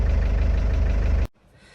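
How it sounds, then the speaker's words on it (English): A restored 1988 Land Rover 110 soft top with a 200Tdi diesel engine idles steadily with a rough, even knock, then cuts off abruptly after about a second and a quarter, leaving near silence. "quick video of start up and idling on this 1988 fully refurbished 110 soft top"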